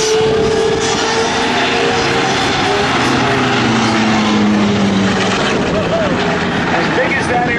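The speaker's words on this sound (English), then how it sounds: "Coming in from the left right now is the Curtiss SB2C Helldiver." A Curtiss SB2C Helldiver propeller engine roars steadily and loudly at an air show, its drone shifting slightly in pitch as the plane passes nearby.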